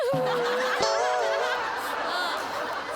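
A stage comedy skit in which a performer's voice imitates crickets chirping, giving high, wavering whistled trills over a continuous noisy backdrop.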